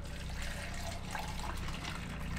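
Water pours into a soil block mix of garden soil and peat moss, a steady close gurgling stream running throughout at a low level.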